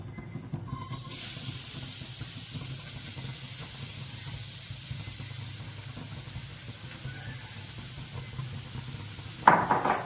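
Carrots sautéing in plenty of ghee for carrot halwa give a steady, close hiss and sizzle that runs almost unbroken, ending in a brief clatter of a utensil.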